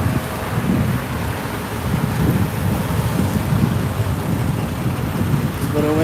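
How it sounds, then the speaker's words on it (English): Wind gusts outdoors in Austin, Texas, battering the microphone in a loud, constant low roar for several seconds, with no clear speech. "It's a little windy out today."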